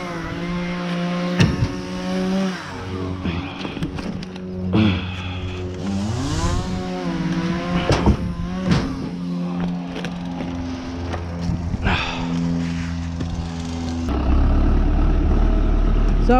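A tractor engine running while pulling a trailer loaded with logs: a steady droning hum that rises and falls in pitch as it revs, with occasional knocks and rattles, close and continuous.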